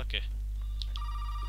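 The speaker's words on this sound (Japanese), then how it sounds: "電話だね。" A telephone rings within the horror video game Resident Evil 7, giving short electronic ring bursts over a low constant hum, fairly quiet.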